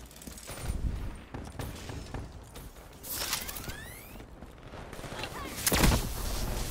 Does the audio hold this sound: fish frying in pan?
no